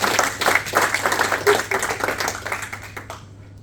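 An audience in a lounge gives a short round of applause, close and lively clapping that thins out and stops after about three seconds.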